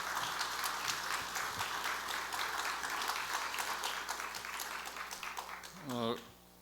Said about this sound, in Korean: 영광의 박수를 하나님께 드리신 줄로